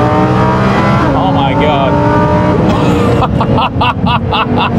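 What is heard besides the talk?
Lamborghini Huracan Performante engine accelerating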